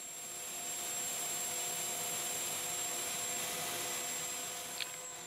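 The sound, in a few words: power sanding a wood-turned flying saucer, 600 grit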